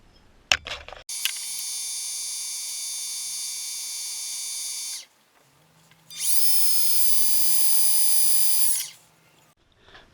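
A lathe turning down a cedar pen blank whines steadily for about four seconds, stops briefly, then spins up again with a high, even tone before winding down.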